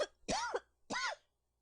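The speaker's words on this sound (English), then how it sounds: "I tend to cough more when I talk" Two short, breathy coughs from a person at a computer, spaced about half a second apart, fairly quiet and close in an otherwise silent room.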